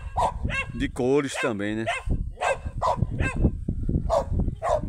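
Dogs bark several times in short, sharp bursts while a person talks nearby.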